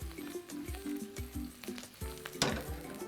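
Two chopped garlic cloves fry in a deep pan with a soft, steady sizzle, broken by repeated low thumps and scraping knocks of stirring and a sharper clatter near the end.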